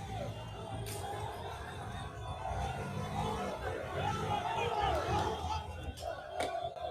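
A rioting crowd in the Netherlands, a dense roar of shouting voices and chatter that holds steady throughout, with a few sharper cries cutting through.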